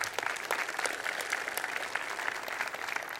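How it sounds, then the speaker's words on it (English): An audience applauds at the close of a lecture on Java modules, a dense wash of clapping from a room full of listeners, steady and sustained for a few seconds with no talking. "Applause."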